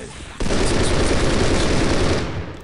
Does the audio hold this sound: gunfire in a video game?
yes